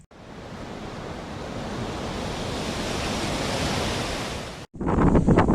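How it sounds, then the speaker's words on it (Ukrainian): Strong wind roars steadily into the microphone in an open field in the Sumy region of Ukraine, a broad, buffeting rush, then cuts off abruptly near the end. "Піднявся сильний вітер"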